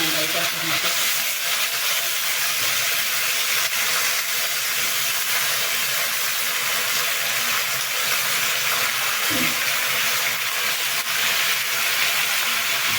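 Curry leaves and tomato frying in a hot pan for simple tomato gojju, a loud, continuous hiss of sizzling oil that stays steady from start to finish.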